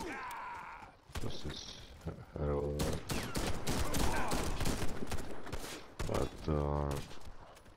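Nagant M1895 revolver fired in a video game: several sharp, loud gunshot bursts with a voice talking in between and over them.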